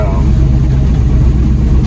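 Ford F600 truck heading back down a hill after hauling soybeans, its engine a steady loud low rumble throughout the short stretch.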